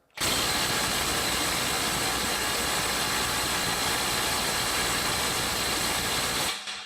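A cordless impact power tool runs flat out against a 400 foot-pound bolt, a loud continuous whirring hammer that starts abruptly and holds steady for about six seconds before cutting off.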